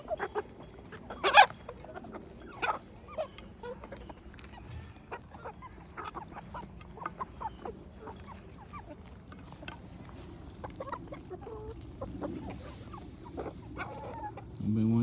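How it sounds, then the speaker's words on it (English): Chickens cluck softly and intermittently nearby, with scattered scratching and rustling in a quiet outdoor setting. "Chickens."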